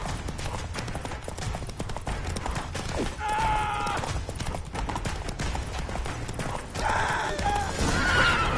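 Roach, a horse in a video game, gallops with steady clip-clop hoofbeats throughout and lets out a couple of neighs and whinnies partway through and near the end.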